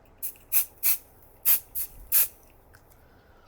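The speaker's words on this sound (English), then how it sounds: "I'm gonna spray the substrate really lightly" Short hissing bursts from an aerosol can of quilt basting spray adhesive, about six quick sprays in an uneven rhythm, close and fairly loud against a quiet background.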